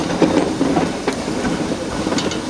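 Nilgiri Mountain Railway train rolling along its mountain track, a steady close rumble with rhythmic wheel clatter and occasional sharp clicks, heard alone without talk.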